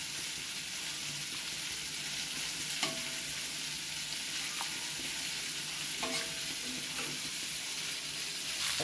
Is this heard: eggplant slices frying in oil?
yes